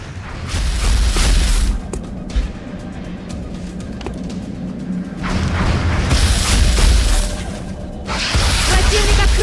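An alien Sectoid firing its rifle at a soldier in XCOM Enemy Within: deep booming blasts and swooshing energy bursts, loud and rumbling, arriving in a few surges separated by quieter stretches.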